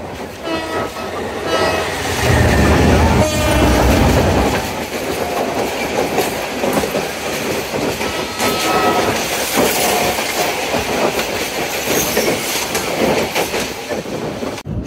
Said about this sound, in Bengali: আর ট্রেনটি হুইসেল দিয়ে অলরেডি ছেড়েও দিল।